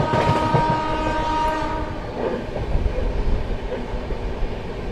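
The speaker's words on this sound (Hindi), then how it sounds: "सामने से आ रही है न्यू दिल्ली राजेंद्र नगर टर्मिनल संपूर्ण क्रांति एक्सप्रेस" The New Delhi–Rajendra Nagar Terminal Sampoorna Kranti Express approaching, a loud sustained horn blast at first, then rumbling wheels and rail clatter close by with steady mechanical roar.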